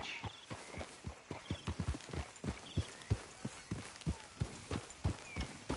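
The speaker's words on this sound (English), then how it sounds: "Grab your horse and let's go." Horse hooves clip-clopping at a steady trot in Red Dead Redemption, a regular, close, crisp rhythm of hoofbeats with faint background ambience and no speech.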